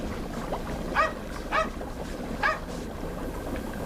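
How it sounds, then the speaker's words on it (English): A dog barks a few times at a distance, three short spaced yelps standing out over a steady low background hum in a quiet room. "The dog. Why is it always barking?"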